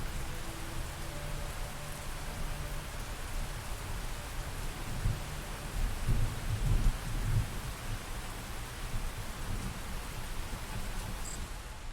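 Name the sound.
rain and thunder in the video game Phantom Brigade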